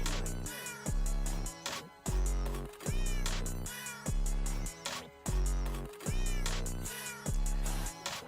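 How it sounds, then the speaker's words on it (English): Repeated cat meows sit inside a rhythmic electronic music track, the meows recurring in a regular pattern over pulsing beats and bass. "we got meows on the track."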